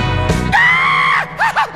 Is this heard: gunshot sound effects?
no